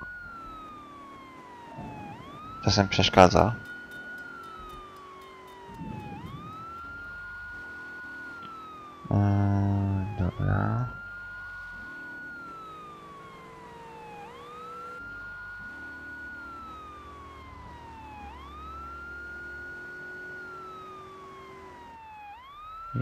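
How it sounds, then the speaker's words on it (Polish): A wailing police siren in Grand Theft Auto III rises and falls in a steady repeating cycle throughout, with occasional crashes and engine noise and a few brief spoken words. "Właśnie dlatego czasem syrena nie jest dobrym rozwiązaniem."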